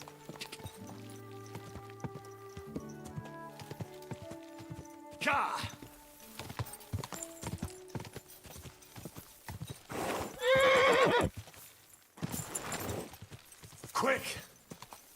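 Horse in Kingdom Come Deliverance 2 with steady clip-clop hoofbeats, a couple of loud whinnies and snorts near the end, game music layered underneath.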